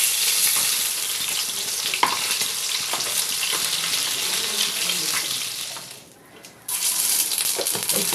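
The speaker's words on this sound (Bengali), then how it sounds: "এবার মাছগুলো আমি এক এক করে ভেজে নেব।" Pieces of rui fish fry in hot oil with a loud, steady, dense sizzle that dips briefly near the end before resuming at full strength.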